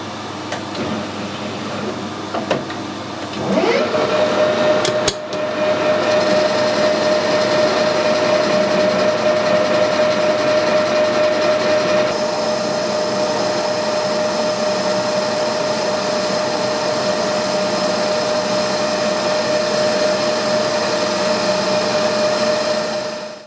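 A lathe takes a light ten-thou cut on a steel tractor pin, a steady motor whine with a sustained high tone and faint cutting hiss running evenly for about twenty seconds after a brief clunk at start-up.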